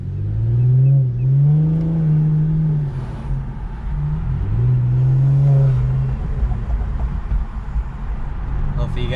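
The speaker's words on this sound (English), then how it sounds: "I'm gonna do the same thing, see if I can get the turbos to spool." A 2018 Infiniti Q50 with a muffler delete and AEM intakes, windows down, makes two rising engine pulls with the twin turbos spooling, loud and close, each falling away between runs.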